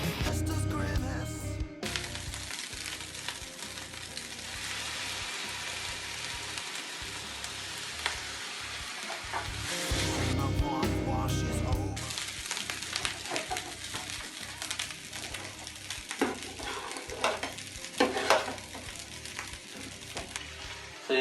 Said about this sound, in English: Just start off with frying the onion, and then the ginger and the garlic.